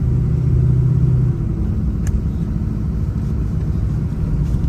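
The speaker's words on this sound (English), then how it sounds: "But right here we're doing about 15. We're accelerating slowly." A 6.0 Powerstroke diesel truck accelerating slowly at about 15 mph with around 6 pounds of boost: a steady, loud, close low engine rumble that holds even throughout, with no voices.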